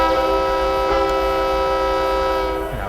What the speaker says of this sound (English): Press and hold the switch to sound the horn.